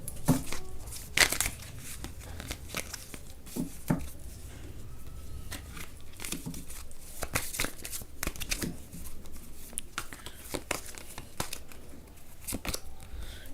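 Tarot cards shuffled and handled near the microphone: repeated crisp crinkling snaps and brushing slides in an irregular rhythm, fairly quiet, with no talking.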